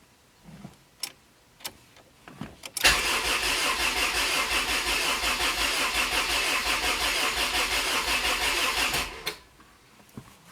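Rebuilt Honda CR-V engine cranking steadily for about six seconds without catching, a loud continuous starter whir with a fast pulsing rhythm, preceded and followed by a few faint clicks and clunks.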